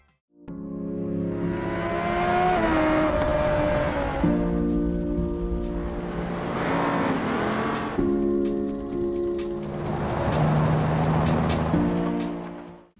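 Cars in the video game BeamNG.drive rev and accelerate through repeated gear changes, with the engine note climbing and dropping in three loud surges.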